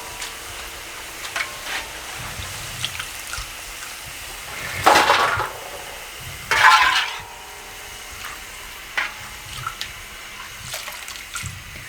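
Potato and onion pakoras fry in hot oil with a steady crackling sizzle, broken by two louder hissing surges close by; no one speaks.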